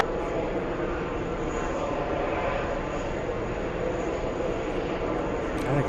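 Airliner moving at JFK airport, a steady broadband engine roar held at an even level throughout, with no voices over it.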